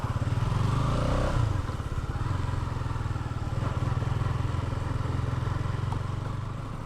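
A motorcycle is ridden at night on a road near the Bopdev Ghat viewpoint. Its engine runs with a steady, close, throbbing low rumble, and wind noise is heard as it travels at a constant pace.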